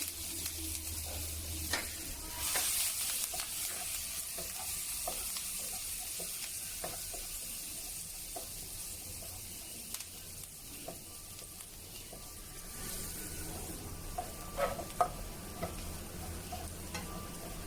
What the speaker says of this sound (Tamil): இப்போ பூண்டு இந்த அளவுக்கு வதங்கினா போதும்.